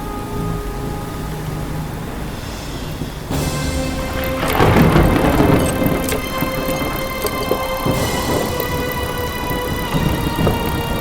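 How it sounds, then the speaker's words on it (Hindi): Thunderstorm in an animated Hindi story: steady rain hiss throughout, then a loud thunder crack with rolling rumble around the midpoint and another burst later, continuous and fairly close with no talking. "बिजली की कड़वाहट और बादलों की गरज के बीच"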